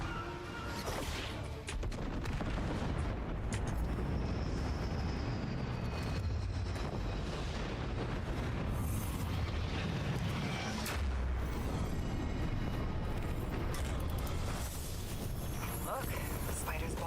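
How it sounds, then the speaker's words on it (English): A dense barrage of bomb explosions in Destiny 2, with heavy rumbling blasts and crashes layered almost continuously at high volume, alongside a whistling aircraft-like drone. "That's a lot of bombs."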